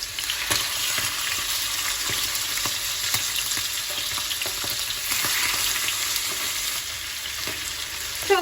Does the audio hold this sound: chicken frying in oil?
yes